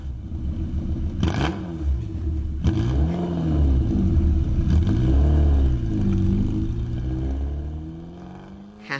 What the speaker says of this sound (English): I think we have actually got the sound of a TVR Cerberus.